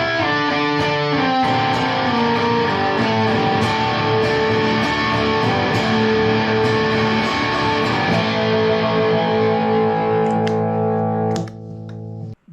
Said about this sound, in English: With the Rat on, that slapback sort of disappears, and it just makes the distortion seem really big and brutal.